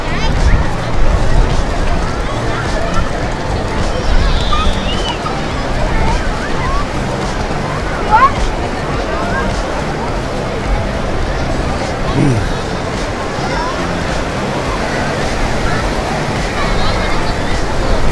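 Water rushes and washes steadily as the tide goes out at a beach in Vung Tau, with a busy crowd murmuring in the background and occasional wind.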